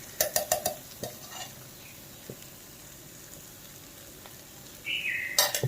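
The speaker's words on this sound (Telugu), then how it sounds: "అలాగ దగ్గరుండి కలుపుతూనే ఉండాలి, లేకపోతే మాడిపోద్ది." Sweet potato halwa cooking with ghee in a pan, stirred by hand: a few quick scraping and clinking spoon strokes at the start and end, with quiet gaps between and a faint sizzle underneath.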